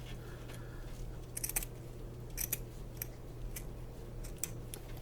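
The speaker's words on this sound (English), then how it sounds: "I'm just going to cut the burlap up at an angle" Scissors trim burlap for a galvanized tin sign with a bow, giving a few faint, scattered snips over a steady low hum, with no voices.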